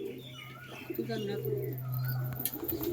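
A pigeon coos in low, repeated hums, with a few chirps and soft background noise around it.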